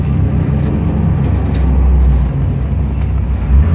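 LS-swapped third-generation Camaro accelerating, a loud deep engine drone with rising rumble, close and continuous, heard without voices.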